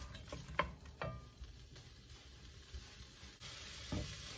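Onion sizzles in fat in a pan, a steady, faint frying hiss broken by a few soft clacks of stirring.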